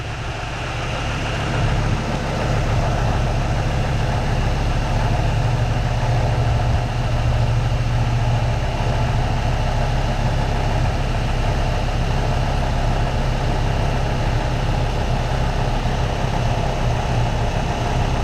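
A car engine idles with its serpentine belt, tensioner pulley and idler pulley turning, giving a loud, even, close-up drone that holds steady throughout.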